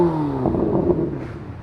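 A turbocharged Corvette ZR1 at the Woodward Avenue Dream Cruise gives a short, fairly muffled engine rev, its tone falling and then rumbling unevenly, close by and without talk.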